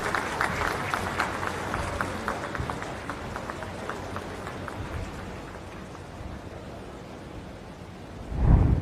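An audience claps to welcome India's Prime Minister at the Kushinagar International Airport inauguration, with dense applause fading over several seconds before a loud low rumble swells at the end.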